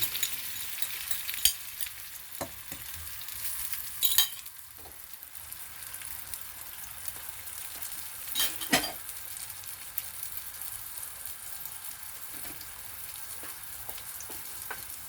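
Ampalaya (bitter gourd) with eggs frying in a pan, a steady soft sizzle with occasional scrapes and clinks of a spatula stirring, close and moderately quiet, no voices.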